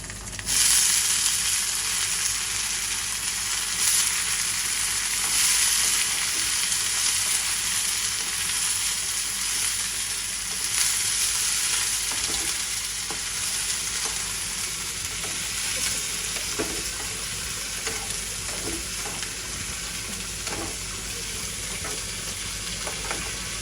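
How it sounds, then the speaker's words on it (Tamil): Onions and curry leaves fry in sesame oil in a pan, a steady close hiss of sizzling with occasional stirring scrapes throughout, no talking. "நல்ல எண்ணெயில் வதங்குகிறேன்"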